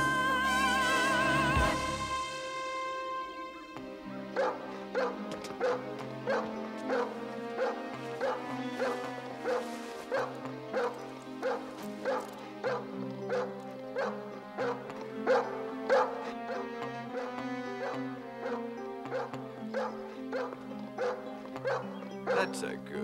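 A dog barks and whimpers in short yips, repeated in a steady rhythm, under a loud music track with strong bass and tonal notes.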